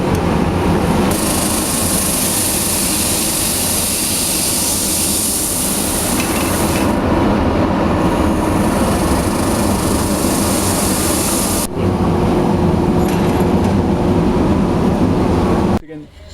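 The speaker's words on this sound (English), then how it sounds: "we bring it over to the sander. Put it through this automatic sander." An automatic sander working on wooden baseball bats in a bat factory, a loud continuous broadband whir and hiss that shifts in tone partway through and cuts off abruptly at the end.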